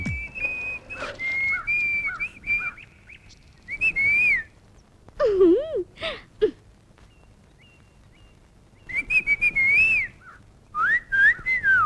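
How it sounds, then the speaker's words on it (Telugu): A man whistles to call someone, sending several sharp, shrill whistled phrases in separate bursts with quiet gaps between them, close and clear with no talking. "ఏయ్, మగవాళ్ళ ఈలలేంటి?"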